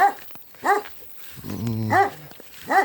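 Dog barking on a farm: four sharp, loud barks spaced evenly, close by, with a low growling whine between them.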